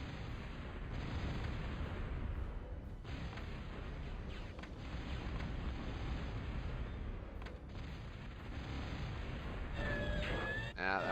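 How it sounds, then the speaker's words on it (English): D-cannons firing in the strategy game Total Annihilation, a dense, constant barrage of heavy blasts and rumbling explosions, loud and unbroken, with a faint tonal whine and some crackling near the end. "is me firing off a whole crazy load of D-cannons."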